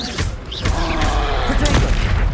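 Fire spell cast in the video game Hogwarts Legacy, a sustained roaring, crackling burst that stays loud for a couple of seconds, with a voice faintly underneath.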